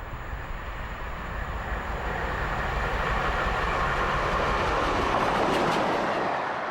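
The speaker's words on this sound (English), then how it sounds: "This is Tor Valley passing Micheldever at speed." Taw Valley, a steam locomotive hauling the Orient Express, passes Micheldever at speed. A loud rushing roar of the train and its carriages builds and holds steady, with rhythmic wheel clatter.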